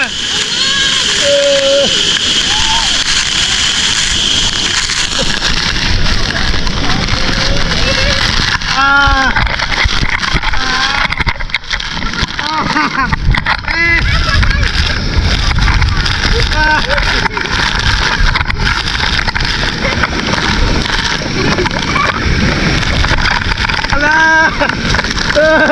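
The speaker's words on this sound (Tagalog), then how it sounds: "Nasa ilalim na tayo ng falls!" Loud, steady rush of water pouring down from a waterfall while people stand beneath it, continuous roar filling the whole span with splashing, excited voices shouting and talking throughout.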